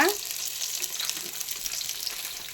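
Onions sizzle steadily in hot oil in a pan while cooking biryani, a continuous bright crackling hiss running loud and close throughout with no voices.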